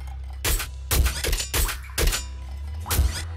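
Pop rifle fires in Nuclear Throne, five loud punchy bursts in an uneven rhythm with short gaps between, each with a crunchy, shattering edge, no talk over them.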